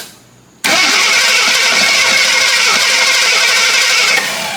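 An old Jeep engine, left sitting for 25 years, catches with a sudden loud roar after a brief quiet lead-in, then runs hard and steady close by, with no one talking.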